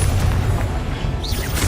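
A Confringo blasting curse explodes in Hogwarts Legacy, a dense rumbling boom that fills the moment with sustained low-end roar and a brief bright crackle near the end.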